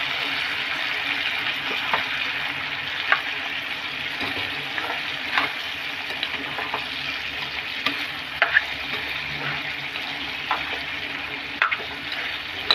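Chicken feet fry in a pan with a constant hissing sizzle and scattered soft pops and crackles, close and steady for the whole stretch. No voice is heard.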